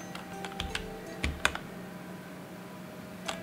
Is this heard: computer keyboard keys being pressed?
yes